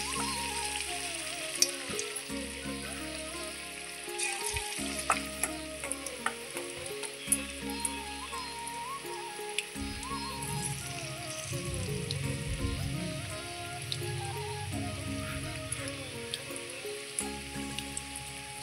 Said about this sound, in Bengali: তেল গরম হয়ে গেছে, এরপর আমি এক এক করে বড়াগুলো ছেড়ে দেব।